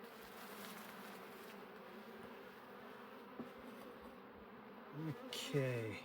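Honeybees buzz during a late fall hive inspection, a soft steady drone near the hive with small clicks and some handling noise toward the end.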